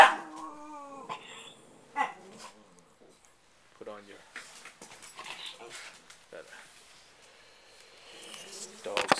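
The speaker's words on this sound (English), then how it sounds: "Dog's hacking up." A dog hacks up indoors with a few short, rough bursts and a brief whine, while someone talks over it.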